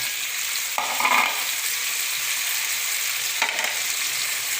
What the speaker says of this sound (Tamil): இப்போது ஓரளவு நல்லா வதங்கி வருது